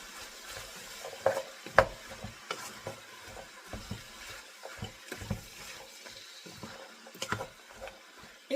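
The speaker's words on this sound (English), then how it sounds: "Okay, now again, get all of this stirred up." A garlic and onion mixture being stirred in a cooking pan, with repeated scraping strokes over a low sizzle, close by and moderately loud, no talking.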